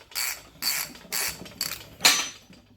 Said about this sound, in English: We're going to pull the spark plug out real quick and then the bolt.